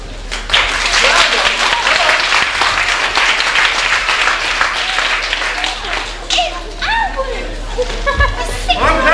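Loud, sustained applause from a large crowd, dense clapping throughout with scattered cheers and voices breaking through near the end.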